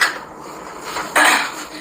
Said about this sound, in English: I'm just gonna do a couple dishes